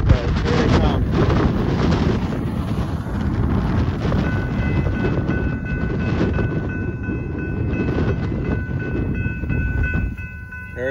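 A southbound BNSF auto train passing the Posey Road crossing in San Marcos, Texas: a loud, continuous rumble and clatter of rail cars close by, with wind buffeting the microphone and a crossing bell ringing faintly toward the end.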